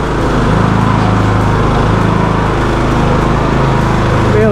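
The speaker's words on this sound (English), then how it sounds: "Not too bad for a free mower." Craftsman LT2000 riding lawn mower engine running steadily nearby, a loud, continuous throbbing drone with an even pitch and no talk.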